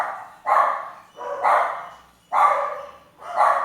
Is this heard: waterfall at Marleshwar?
no